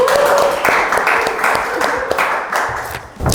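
Close applause from a small campus audience clapping for a student ambassador, with rhythmic claps and a brief voice at the start, ending in a few scattered claps.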